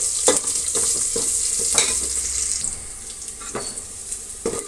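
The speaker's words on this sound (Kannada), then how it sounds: "ಚೆನ್ನಾಗಿ ಫ್ರೈ ಆಗಬೇಕು ಈರುಳ್ಳಿ." Onions and curry leaves fry in hot oil for a jackfruit seed sambar tempering, giving a steady close sizzle broken by repeated clinks and scrapes of stirring.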